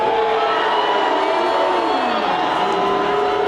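A huge crowd at a Bernie Sanders rally at Queensbridge Park in New York City cheers and whoops continuously, a loud, dense roar with shouts rising and falling.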